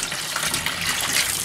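Water gushing steadily as a portable mini compact automatic washer drains its first wash cycle out into a tub, a loud continuous splashing rush close by.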